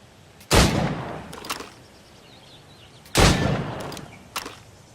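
Two sharp, loud gunshots a few seconds apart ring out at a target range in the video game Assassin's Creed Rogue, each followed by a short echoing tail and a faint metallic knock.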